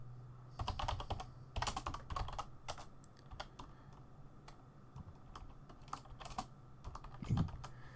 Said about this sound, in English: Also, I apologise in advance for my loud keyboard.